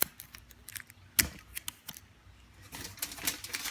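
Aluminium foil is handled and crinkled in short, faint crackles and taps, with a sharper rustle partway through and denser crinkling toward the end.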